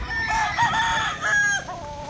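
A rooster, held in hand, crows loudly and close by, one drawn-out call with wavering pitch that trails off at the end.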